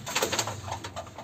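A pigeon, a male of a small Mordda Blood breed, coos in a soft, rhythmic run of low throaty calls close by, alone with no talk.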